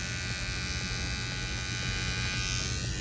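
A VGR V-082 cordless hair trimmer runs steadily at close range, giving a continuous electric buzz with a low hum and no talking over it.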